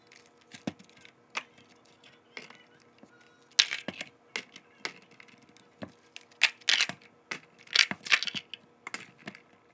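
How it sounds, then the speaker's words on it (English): Ice cubes being cracked out of a tray for caramel iced coffee: a series of sharp cracks and clicks at irregular intervals, growing denser and louder toward the end, close by and with no speech. "I'm gonna break the ice cubes from here, and then I'm just gonna put it inside of the coffee."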